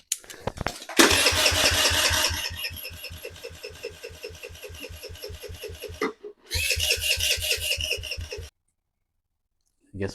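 A Kawasaki KFX50 ATV engine cranks over with starting fluid, a rapid rhythmic chugging from the starter that runs for several seconds, breaks off briefly, then resumes before stopping; a voice is heard faintly.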